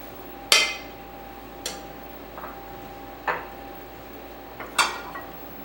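Dishes and cutlery clink as braised beef with glazed shallots and polenta is plated, four or five sharp ceramic knocks spaced a second or so apart over a quiet room.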